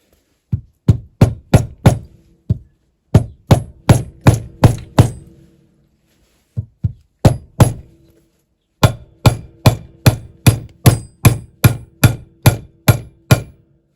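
A hammer tapping a dowel pin into an American La France V12 engine block, sharp metallic taps in quick bursts of four to eight strikes with short pauses between, close and loud.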